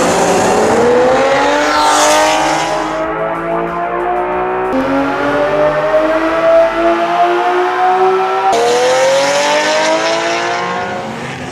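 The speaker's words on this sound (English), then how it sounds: "But when you put a sports exhaust system on it, that's the noise. That's the noise that engine should make." A Ferrari Testarossa flat-twelve fitted with a sports exhaust howls loudly through rising revs and gear changes, its pitch climbing, dropping and climbing again in a sustained, close-up wail.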